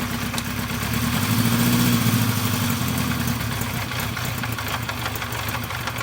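A 1974 Honda CB350 Four motorcycle engine running off choke, which has a chain kit problem and runs poorly, sits close by with a steady, rough idle. A brief rise in the low drone comes after the first second, then it settles back.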